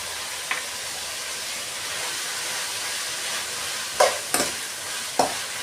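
Ingredients fry in a pan with turmeric powder added, giving a steady hiss of sizzling oil. A few sharp clinks of a spoon stirring against the pan stand out near the end.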